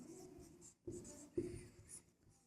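Pen or chalk writing out the answer to a Class 10 linear-equations maths problem by hand, a few scratchy strokes in short bursts, close and fairly quiet, with no speech over it.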